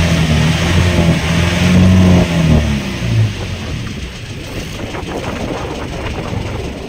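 A loud fishing boat engine drones and revs nearby in the Philippines, its pitch shifting early on before settling into a steady rumbling run.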